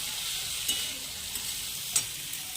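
Potatoes fry in a pan with a steady close hiss and sizzle, marked by a few faint clicks of stirring.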